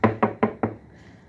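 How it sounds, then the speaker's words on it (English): Four quick, evenly spaced knocks of knuckles rapping on a wooden surface, close and crisp, followed by a faint quiet tail. "knock on wood"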